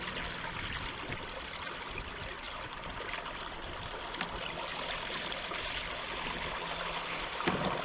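Shallow, low river running over a sandbar and rocks, a steady close babble and trickle of water that holds even and continuous throughout with no voices.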